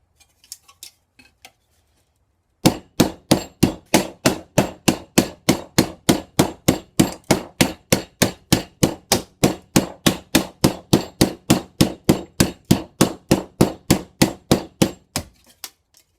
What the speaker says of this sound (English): far from an ideal piece of riveting.